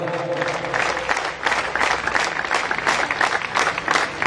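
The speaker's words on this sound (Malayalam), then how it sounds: "എല്ലാവരും നല്ല ക്ലാപ്പ് കൊടുക്കുക" Audience applause at a football club anniversary function honouring visiting football teams, steady dense clapping from a crowd that swells and holds for several seconds, fairly close.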